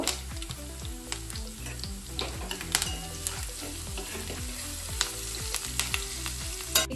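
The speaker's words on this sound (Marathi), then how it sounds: "आता आपण फोडणीमध्ये जिरे मोहरी घालूयात त्यानंतर लसूण लसूण भरपूर घ्यायचं आहे कढीपत्ता हिंग" Cumin, mustard seeds, garlic, curry leaves and asafoetida crackle and spit steadily in plenty of hot oil for a Maharashtrian tempering, a close, continuous sizzle with sharp pops, over background music.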